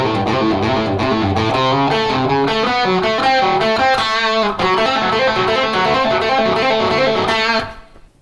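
Overdriven electric guitar plays three fretted licks back to back, a loud, busy stream of quick picked notes up close that ends abruptly.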